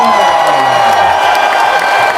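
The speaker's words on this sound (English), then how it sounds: "Let's give Bertie a big round of applause" A loud crowd claps and cheers together, dense and continuous applause with whoops and shouting throughout.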